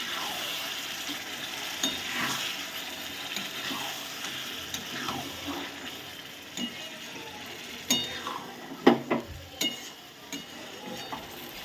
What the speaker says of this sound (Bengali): চাপা দিয়ে দিয়ে আমি ভালো করে খাসির মাংসটাকে কষিয়ে নেব।